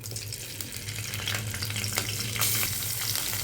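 Onions, green chillies and curry leaves frying in hot oil in a kadai for cauliflower curry, a continuous crackling sizzle with occasional stirring scrapes over a low hum, no voices.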